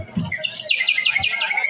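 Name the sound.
birds chirping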